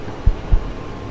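A heartbeat in the video game The Mimic, two deep, muffled thumps in quick succession over a low background hum, clear and close.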